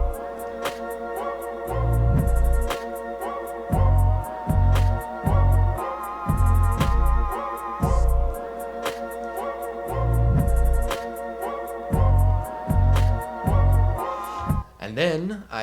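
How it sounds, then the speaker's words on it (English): A hip-hop beat in which deep, booming 808 bass hits and crisp drums with snare and hi-hat cracks are layered over looping melodic synth parts. The beat is loud and rhythmic and plays on its own, with no voices. "add the drums and 808 and it sounds like this"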